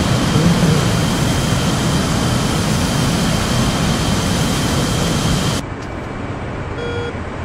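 Small plane engine in the DCS flight simulator, a loud, steady droning roar that holds evenly, then drops abruptly to a quieter, thinner hum near the end.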